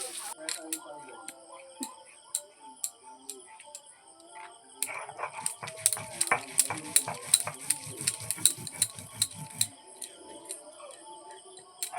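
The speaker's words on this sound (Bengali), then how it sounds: "মাংসের আলুটাও আমি ভেজে নিচ্ছি" Potatoes for a meat curry fry and get stirred in a pan, with a steady sizzle and rapid scraping, clinking strokes of a utensil that grow denser and louder midway, then ease off.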